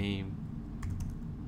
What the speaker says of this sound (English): I'm going to type in get your domain name